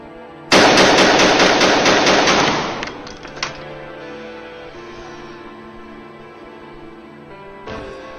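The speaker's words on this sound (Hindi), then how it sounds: "बंदूक चलाना कहां से सीखा?" A burst of rapid automatic gunfire, loud and close, from a Hindi-dubbed Chinese action movie, rattling for about two seconds before fading into a ringing tail, with a single faint shot near the end.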